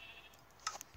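A sheep bleats once in a video game, a short faint call over a quiet background hum.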